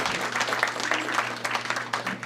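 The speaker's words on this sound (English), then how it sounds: "I hope everybody will give a round of applause to TD Bank" An audience at a Vermont State Chamber of Commerce breakfast applauds in a moderate, sustained patter of clapping, with faint voices underneath.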